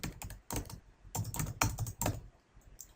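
Close, clattering keystrokes on a computer keyboard while entering code, a few quick clusters of taps separated by short gaps, with no talking.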